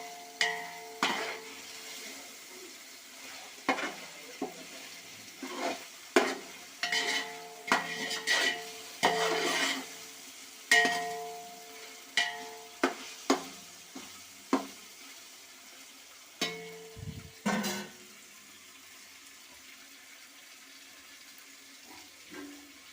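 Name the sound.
tomatoes being stirred and cooked in pan for biryani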